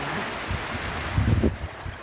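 Steady afternoon rain pours down with gusting wind in Thailand, a constant broad hiss with low rumbling buffets from the wind.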